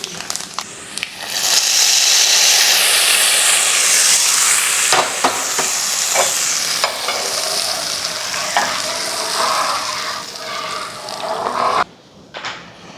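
Sesame seeds sizzling and spluttering steadily in ghee for most of the clip, with clinks of stirring, then a brief drop near the end before sizzling resumes.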